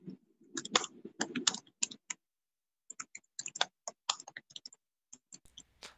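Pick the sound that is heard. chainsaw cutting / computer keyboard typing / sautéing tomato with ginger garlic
computer keyboard typing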